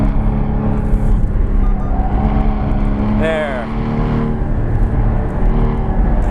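A 2016 Porsche Cayman GT4 roars loud and close from the cabin on a race track, its engine note shifting as it brakes into a corner and pulls out again, with a short spoken word over it midway.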